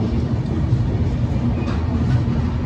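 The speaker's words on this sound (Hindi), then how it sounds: "यहाँ पे अपनी ट्रेन अंबाला कैंट जंक्शन से चल दी है।" Delhi Pathankot SF Express pulling out of Ambala Cantt Junction, heard from on board: a loud, continuous rumble of coaches rolling on the rails, steady throughout, ending abruptly, with no clear talking.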